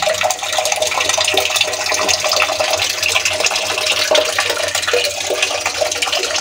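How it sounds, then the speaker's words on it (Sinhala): Water from a motor pump pours steadily into a backyard pond built in an old well ring, a loud, continuous splashing rush lasting the whole stretch without any talk. "මෝටර් එකක් දාගත්තා ඒකෙන් දැන් වතුරත් වැටෙනවා"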